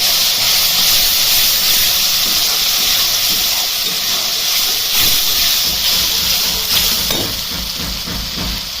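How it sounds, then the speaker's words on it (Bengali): Spice paste masala for cauliflower curry fries loudly in a pan as a dense, continuous hiss and sizzle, with some irregular stirring scrapes, close and strong throughout. "মশলাটা দেওয়ার পর ভালো করে কষিয়ে নিতে হবে।"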